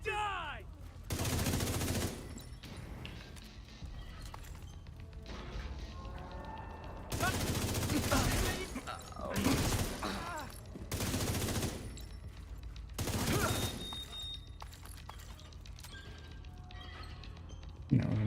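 Repeated bursts of gunfire from the reanimated GoldenEye video game, several rattling volleys spread across the stretch with short gaps between them, mixed with other game effects and occasional talk.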